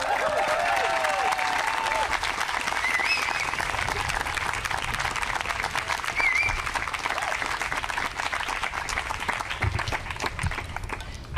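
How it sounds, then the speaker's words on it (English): Audience clapping at an outdoor groundbreaking ceremony, sustained applause with scattered cheers and whoops, steady throughout and slightly thinning toward the end. "I know y'all are just clapping for this outfit."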